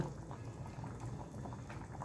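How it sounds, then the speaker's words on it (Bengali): Chicken simmering in a wok (kadai) makes a soft, continuous bubbling that stays even and fairly faint over the whole short stretch. "কড়াইতে একটু সিদ্ধ করতে হবে যতক্ষণ না কাঁচা গন্ধটা যাচ্ছে"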